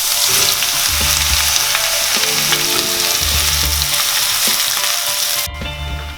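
Onions frying in white oil in a pan, a steady loud sizzle throughout with low rumbling stir or scrape sounds recurring in rhythmic bursts.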